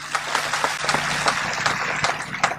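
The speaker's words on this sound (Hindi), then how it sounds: "आप लोगों ने तालियों से मेरी बात का स्वागत किया है।" An audience at a political speech applauds, a dense, steady patter of many hands clapping at moderate loudness with no talk over it.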